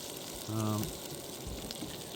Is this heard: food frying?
yes